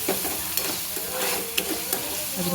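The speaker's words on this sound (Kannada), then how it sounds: "ಅಲ್ಲಿ ತನಕ ಚೆನ್ನಾಗಿ ಫ್ರೈ ಮಾಡಿ" Soy sauce, chilli powder, garam masala and salt frying in a pan for baby corn Manchurian, with a steady close sizzle and scraping stir strokes throughout, no talking.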